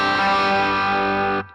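A sustained, slightly overdriven and bright guitar chord rings through a MixWave Two-Rock Bloomfield Drive amp plugin, holding steady and loud for over a second before cutting off abruptly.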